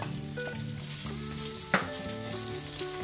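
Garlic, onion and chopped ginger sizzle steadily in a hot pan for a chicken malai curry, with a sharp stir or clatter partway through and a low hum underneath.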